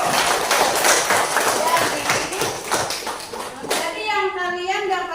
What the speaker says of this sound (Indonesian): Pintar anak-anak semua, kita kasih tepuk tangan dulu